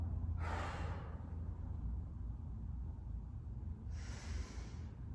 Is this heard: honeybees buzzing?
no